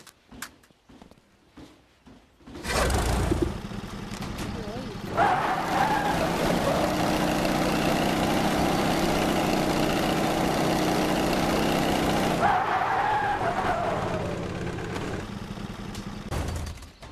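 A go-kart in a space-themed video game drives with a steady engine drone and skidding tire noise, loud and continuous for most of the clip after a short quiet start, with no talk over it.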